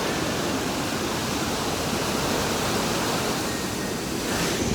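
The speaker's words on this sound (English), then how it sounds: "So we're here at just near the water fountain, just near the fall." A waterfall at a rocky site in Thailand gives off a loud, steady rushing roar of falling and flowing water that continues unbroken throughout, with no voices.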